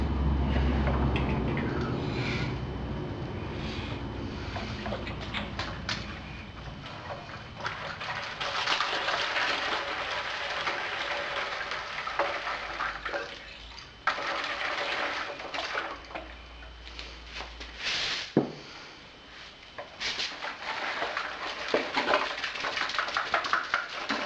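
Brut IPA wort flowing during a transfer after the boil, a steady gushing and pouring of liquid that holds for a long stretch, with a few clanks and shifts in flow and the odd bird call behind it.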